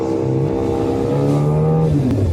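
Four motorcycle engines rev and drone steadily close by, humming with rising and falling pitch, loud and continuous with no talking.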